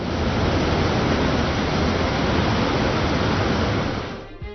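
Monsoon-flooded rivers in Konkan, Ratnagiri, give a steady, dense roar of rushing water that holds at full strength throughout, then cuts away abruptly near the end, with no voices.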